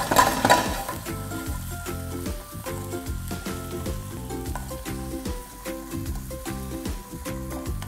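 Chopped garlic and ginger sizzle in hot oil in a pan for egg curry, a soft steady frying hiss under faint stirring and occasional light clinks, with background music throughout.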